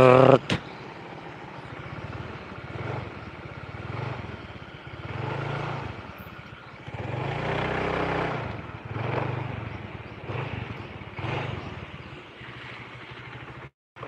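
Honda Vario 110 scooter with a judder problem, engine idling and rumbling close by in a low, uneven drone that swells and eases in waves, mostly alone with little talk.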